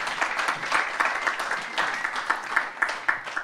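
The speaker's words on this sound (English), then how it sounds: "let's give them a round of applause" A round of applause from the audience at a women's month democracy celebration, a moderate wash of hand claps with some individual claps standing out, steady for several seconds.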